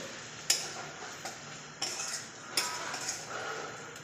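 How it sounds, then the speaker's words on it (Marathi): Eggs cracked one after another into a pan for dhaba-style egg bhurji made with six eggs, giving sharp, close taps and clinks at irregular intervals against a low background hiss, with no talking. "आता आपण अंडी फोडून घेऊया"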